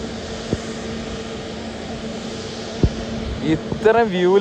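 A steady aircraft engine drone fills the background while a voice speaks near the end, with a few brief knocks.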